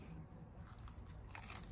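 A bite into crispy Taco Bell food, a Mexican Pizza or Toasted Cheddar Chalupa, gives a soft close crunch and chewing, quiet and brief.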